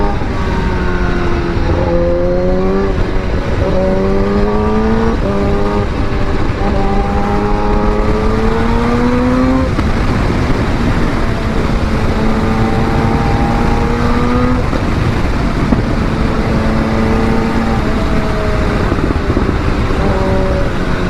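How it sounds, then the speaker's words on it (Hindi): Motorcycle engine revving through quick-shifter upshifts while riding, pitch climbing and dropping in repeated steps across the run, loud and close, with wind and road roar throughout; distinct exhaust pops are not clearly separable. "क्या पटाखा मार रही है बाइक"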